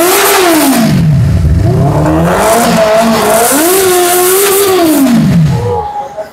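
Superbike engine revving loud and close, rising and falling through several throttle sweeps over about six seconds, with no talk over it.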